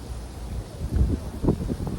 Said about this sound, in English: I apologize if the camera is it's very windy here.